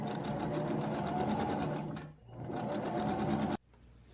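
A sewing machine stitching the inseam of capri trousers, a loud close humming drone that dips briefly, runs again, then cuts off abruptly.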